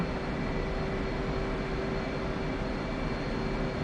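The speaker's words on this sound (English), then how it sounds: "We went to taxi onto the runway." Steady engine drone of a fixed-wing aircraft taxiing onto runway 8 during a cold start in the DCS flight simulator game, a continuous even hum with a constant tone and no talk.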